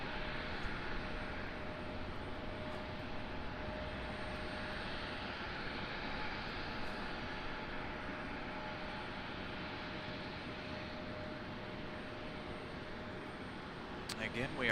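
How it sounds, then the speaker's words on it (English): American Airlines CRJ 700 regional jet at an airport, a steady broadband engine roar held at even loudness throughout, moderately distant, with faint voices now and then underneath. "There you go, American Airlines CRJ 700."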